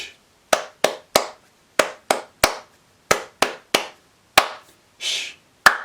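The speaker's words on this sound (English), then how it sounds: "So let me now clap this rhythm for you that is a question and answer" Hands clap out a question-and-answer rhythm, about a dozen sharp, close claps in uneven groups with short gaps, ending on a final clap and no other sound.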